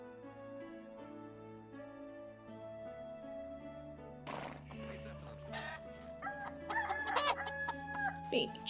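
Chickens clucking and a rooster crowing in the farming video game Medieval Dynasty, layered over steady background music, with the calls growing busier and louder toward the end.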